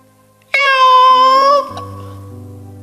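A man imitates a cat's meow with his voice, one drawn-out, nasal mew that drops in pitch, followed by a low lingering tone.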